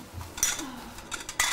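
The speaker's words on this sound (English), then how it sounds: "I'll grab some cutlery" Cutlery and bowls clink and clatter as they are gathered up in a home, with a few sharp bright knocks spread across a quiet room background.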